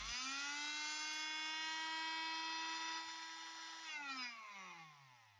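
HILDA 220V 280W electric oscillating multi-tool running close by, a steady high buzzing whine with dense harmonics that holds for about four seconds, then winds down as the motor slows.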